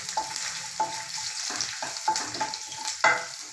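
Chopped garlic and ginger frying in hot oil in a pan for a peanut vegetable curry, a steady close sizzle broken by several sharper crackling bursts as the pieces hit the oil and are stirred, with no voices.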